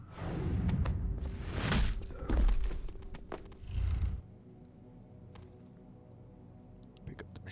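A thug's body dropping to the floor in Deus Ex: Human Revolution, heard as a few dull, heavy thuds close by over a low game-room hum, then quiet with small clicks.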